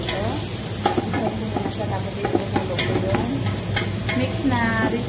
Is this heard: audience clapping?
no